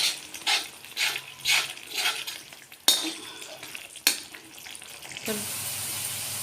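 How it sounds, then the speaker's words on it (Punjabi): Yogurt for masaledar dum aloo is stirred and roasted in a pan: a rhythmic series of spoon scrapes over crackling sizzle, two sharp clinks, then a steady frying hiss. "ਦਹੀਂ ਨੂੰ ਆਪਾਂ ਲਗਾਤਾਰ ਹਲਾਵਾਂਗੇ ਤੇ ਚੰਗੀ ਤਰ੍ਹਾਂ ਭੁੰਨਾਂਗੇ"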